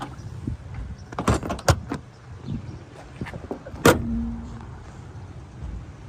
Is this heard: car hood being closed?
yes